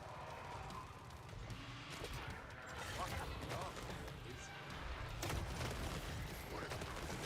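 Gunfire and explosions from the Killing Floor 3 video game form a dense, continuous barrage of cracks and booms, loud and steady throughout with sharper bursts near the middle and end.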